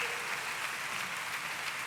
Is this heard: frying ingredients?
no